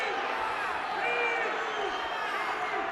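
Basketball arena crowd at a Bowling Green game against Western Michigan, a loud sustained roar of voices and murmuring that swells slightly midway, steady dense crowd noise with no distinct claps standing out.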